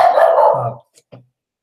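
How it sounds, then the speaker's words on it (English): A dog lets out one loud, drawn-out bark close by, followed by two short, fainter yips, then silence. "always have dogs barking here"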